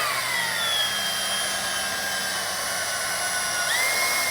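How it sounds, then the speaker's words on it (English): A power drill bores 3/8-inch holes through a base plate bracket and frame on a 2014 Chevrolet Captiva, giving a steady high-pitched whine with slight pitch shifts at a moderate level and no speech. "We're going to drill out 2 holes, only we're going to go through this plate and then the plate we just installed"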